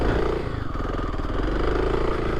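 A 2024 Kawasaki KLX300 dirt bike runs on an overgrown off-road trail, its single-cylinder engine droning loud and close at a steady low pitch with a rough, pulsing rattle throughout.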